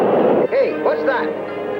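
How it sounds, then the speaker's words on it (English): A cartoon heat-seeking missile explodes in a loud sustained rumbling blast, joined by falling and warbling whistle-like tones as the boom rolls on. "That, you old doubting Taurus, was a heat-seeking missile."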